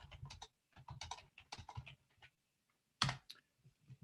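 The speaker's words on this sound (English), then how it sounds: "So, so I can keep typing" Typing on a computer keyboard, a quick run of soft key clicks in short bursts with brief pauses, close and quiet, ending in a louder clack near the end, with no talk.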